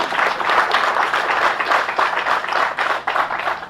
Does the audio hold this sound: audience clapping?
yes